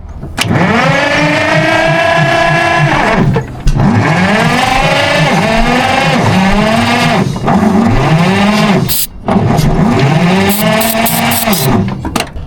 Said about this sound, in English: We got her cranking over, folks.